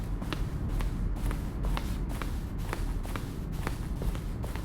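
Footsteps from the video game The Stanley Parable tap in a steady, even rhythm at a moderate distance, about two steps per second, over a faint background hum, with no speech.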